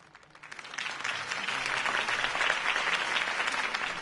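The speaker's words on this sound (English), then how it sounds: "could have heard that applause" Applause from a crowd swells quickly from quiet into steady, dense clapping that continues at full strength, with no talking over it.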